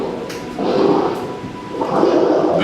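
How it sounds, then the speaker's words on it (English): Gases bubbling up through dark water over peat in the Okefenokee swamp, two close, loud gurgling bursts with a brief pause between them. "Bubbling gases are like the heartbeat of Okefenokee."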